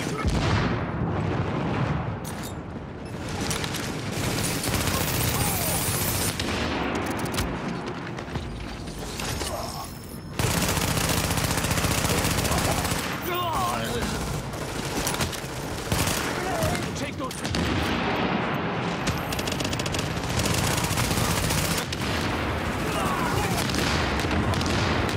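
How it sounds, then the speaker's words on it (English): Sustained heavy video-game gunfire fills the whole stretch, dense bursts of automatic fire and booms from a rooftop gunner with mechanical clatter, loud and continuous with brief dips, mixed with background voices. "Escort party's taking heavy fire from the roof"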